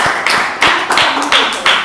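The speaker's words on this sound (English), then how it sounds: "A big round of applause for the table topic master." Attendees at a Toastmasters club meeting clap together, a close, loud patter of hand claps rising and falling in quick bursts for under two seconds.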